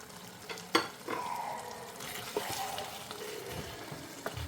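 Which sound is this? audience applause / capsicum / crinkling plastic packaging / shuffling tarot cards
capsicum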